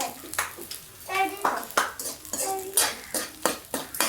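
Millet is roasted over a low flame in homemade ghee in a pan. A spatula scrapes and clinks against the metal in an irregular stirring rhythm, close and moderately loud, while someone talks throughout.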